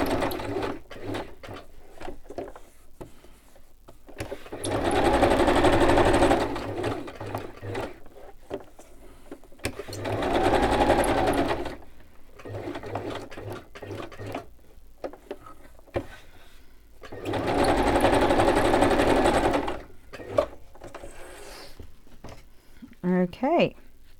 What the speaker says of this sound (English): I'm not going to glue that because that will just come through onto my sewing machine, but I'm going to stitch it